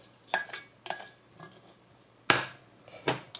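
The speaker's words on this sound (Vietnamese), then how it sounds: "Vét hết gia vị trong nồi." A metal utensil scrapes and knocks against a pot in several short, separate strokes, scraping out seasoning for crispy lemongrass-garlic-chili chicken jerky, with quiet gaps between them and no talking.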